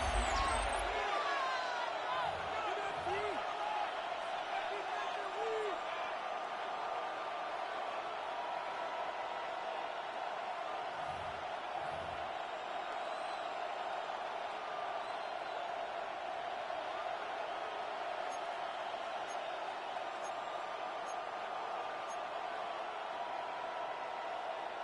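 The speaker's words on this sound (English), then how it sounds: "The crowd making their presence felt." Steady stadium crowd roar from the Madden 26 NFL football video game, a dense, continuous wash of noise that holds level for the whole stretch, with faint low thumps near the start and middle.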